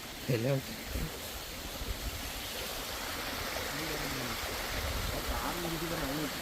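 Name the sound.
riverside stream flowing, swollen after rain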